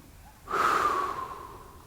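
A single long exhale during a vinyasa yoga session, starting abruptly and trailing off slowly, close and breathy with nothing else around it.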